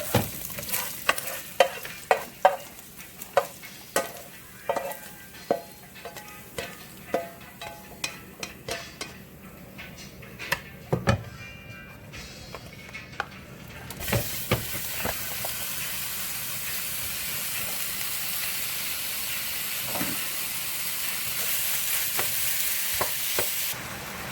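Ground turkey frying in a pan for a baked spaghetti casserole, with sharp utensil clacks and scraping stirs at first, then a steady loud sizzle filling the rest, no talking.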